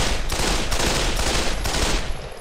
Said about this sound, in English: Burst firing gives us a much tighter group.